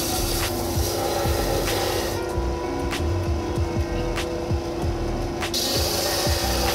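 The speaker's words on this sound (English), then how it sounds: "sanding and shaping out the general shape of the putter on the belt sander" A belt sander grinds and shapes the metal head of a golf putter, giving a loud, steady abrasive whir with a constant hum and repeated brief scraping surges as the metal is pressed to the belt.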